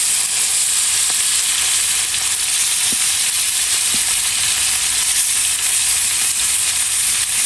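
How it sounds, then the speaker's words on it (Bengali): Fish frying in a pan, a loud, steady bright sizzle held close throughout with a few faint clicks underneath. "এদিকে আমি মাছটা একটু ভাজি করে নেবো"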